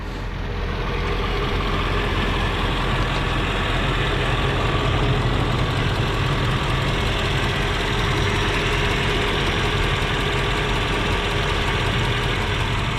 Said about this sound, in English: M113 idling away.